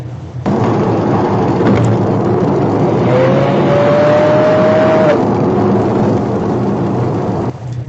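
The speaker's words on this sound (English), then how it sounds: "Watch how this black BMW blocks me off on the highway." Car traffic on a highway heard from inside a moving vehicle, a steady loud road and engine roar with a brief tonal whine midway as another car, a black BMW, cuts in close, no speech.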